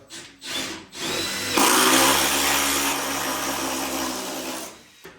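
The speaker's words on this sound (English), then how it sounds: "I'm just going to drill a hole right here" A compact impact drill whirs steadily through material for several seconds after a couple of short trigger bursts, close and fairly loud, then winds down, while plumbing and hanging kitchen cabinets.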